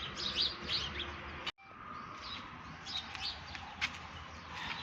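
Birds chirp and call intermittently in the open air, with faint pigeon-like cooing, over a steady background hiss and no talking.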